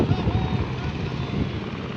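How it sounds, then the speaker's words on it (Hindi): A helicopter flies near Kedarnath in light rain, making a steady, fairly loud broadband rotor and engine drone that continues unbroken through the moment, with voices talking over it. "हेलीकॉप्टर का अद्भुत नज़ारा"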